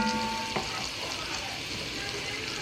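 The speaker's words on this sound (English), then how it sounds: "To that, I'm going to add my garlic" Garlic and onions fry in a pan, a close, steady sizzle with a brief clatter early on as the garlic goes in, continuous for the whole moment.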